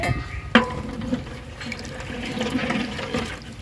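Water pours steadily into a cooking pot for chicken biryani, a continuous splashing trickle with a sharp clink near the start, fairly close and alone.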